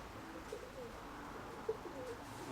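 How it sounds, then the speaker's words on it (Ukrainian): Pigeons coo softly at a distance as they land, over a quiet outdoor background, with a brief flutter near the middle. "сідають голуби"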